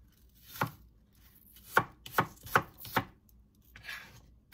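A knife chops through butternut squash on a cutting board for soup, five or six distinct close thunks in an uneven rhythm with quiet gaps between, and no one talking.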